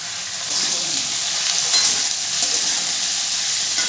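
Capsicum and diced, seeded tomato fry in a pan for a vegetarian navratan korma, giving a steady close sizzle under repeated scraping stirs, with no voices.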